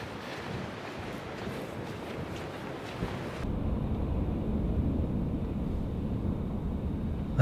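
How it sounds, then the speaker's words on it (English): Strong wind roars against the microphone as a storm arrives in Bedfordshire, growing heavier and denser partway through as gusts pick up, a constant blustery rush with no voices. "It's really starting to blow now and the rain's picked up."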